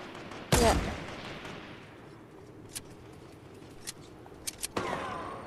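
Fortnite gunfire: a loud burst of shots cracks out early, then scattered fainter distant pops follow before another close volley near the end.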